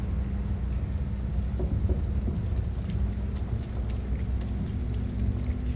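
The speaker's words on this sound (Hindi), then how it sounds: "बारिश भी हो रही है," Steady rain in the dark world of the video game Little Nightmares, a dense continuous hiss with low rumbling underneath, holding at an even level throughout with no voices.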